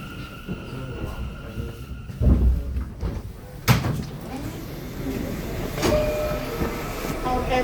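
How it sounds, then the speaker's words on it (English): An R179 subway car on a Queens-bound M train runs at 47-50th Street-Rockefeller Center, with a steady rumble, a few sharp clanks and thumps, and a faint electric whine. "Queens-bound M train running over the F line from 4750th Street, Rockefeller Center."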